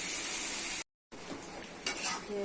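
Ridge gourd stir-frying with cumin in a pan, a bright continuous sizzle broken by a brief dropout, followed by scraping stirs and clinks of the utensil against the pan.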